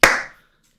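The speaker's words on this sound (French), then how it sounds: "Merci beaucoup, Jason. Une main d'applaudissement." A single short burst of clapping, sharp and close, fading out within half a second into silence.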